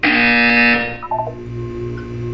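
A loud electronic buzzer blares in the video game Portal, one harsh sustained tone that stops abruptly, followed by a few short beeps over a low hum.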